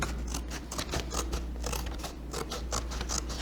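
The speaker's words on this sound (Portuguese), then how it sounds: "Cortei, peguei aqui a tesoura" Scissors cut through paper during a school craft activity, a quick run of crisp, close snips and scraping strokes repeating rapidly with no talk.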